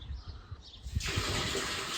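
Water splashing and gushing into a sprayer tank while vinegar is added to acidify it before spraying herbicide on soybeans; a brief pour that swells suddenly into a steady rushing fill.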